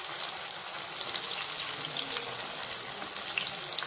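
Raw banana slices frying in hot oil make a dense, steady crackling sizzle, close and even throughout, with no voices.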